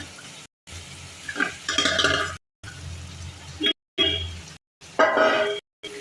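Prawns and brinjal in a pan are stirred during frying, giving short bursts of scraping and sizzling broken by brief silent gaps, with a voice talking between strokes.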